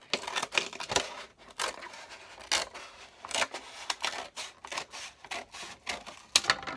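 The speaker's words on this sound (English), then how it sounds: "you could use a little pair of scissors, and you can cut the egg carton" Scissors snipping through a cardboard egg carton during a bug craft, a quiet series of irregular crunchy cuts and scrapes close by, with no voices.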